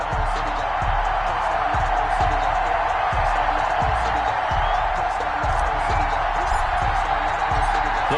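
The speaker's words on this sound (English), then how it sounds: "Somehow this place got even louder a short time ago as the Falcons were introduced to this sellout crowd" A sellout stadium crowd roars in an EA Sports NFL game as the Atlanta Falcons meet the Las Vegas Raiders, a dense, continuous wall of cheering and crowd noise with rhythmic thumps running underneath, loud throughout.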